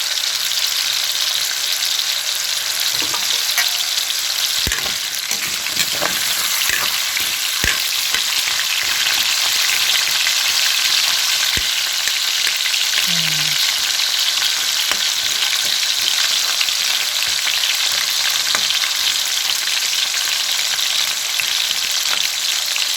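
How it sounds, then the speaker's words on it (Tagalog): A steady, loud sizzle of potatoes frying in hot oil with occasional pops and crackles throughout, no voices. "prituin lang natin yung patatas"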